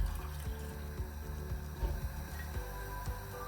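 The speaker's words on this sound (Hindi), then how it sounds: "अब आप गैस की फ्लेम हाई कर दें तो इसमें और पानी ऐड करेंगे।" Water is poured from a glass into a cooking pot of masar chawal on a gas stove, a steady close splashing and gurgling that runs continuously with light sloshing.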